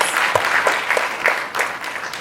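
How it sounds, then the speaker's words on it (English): Steady applause from an audience at an elders' forum at a youth conference, a dense, even patter of many hands clapping throughout, fairly close and with no speech over it. "A round of applause for you, please."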